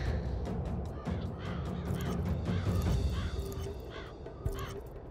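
Crows caw repeatedly in Trickster VR, several harsh calls in quick succession, close and loud over a busy game soundscape.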